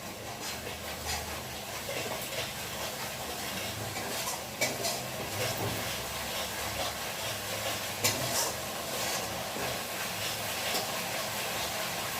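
Pointed gourd and potato tossed into frying spice paste and stirred, giving a steady sizzle with occasional spoon scrapes and clinks against the pot, close and moderate in level.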